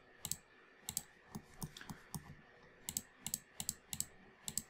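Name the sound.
computer keyboard typing a shortcut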